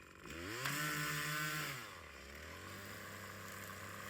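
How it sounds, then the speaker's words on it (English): A gas string trimmer runs steadily close by, its engine note rising and then dropping to a lower idle-like drone for a few seconds, with no talk over it. "Angle it, angle the trimmer."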